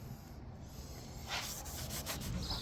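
A cloth rubs boiled linseed oil onto a walnut tabletop in soft, continuous strokes that grow a little brisker partway through, faint and close with no talking.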